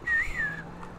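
A person whistles a short, clear two-part note close by, rising then gliding down, alone and brief.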